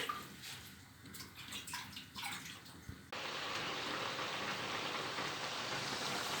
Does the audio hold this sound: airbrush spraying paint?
no